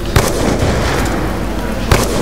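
A grenade explodes during a Black Ops 2 Zombie match, heard as sharp, loud bursts at the start and near the end over a dense, continuous roar of game noise.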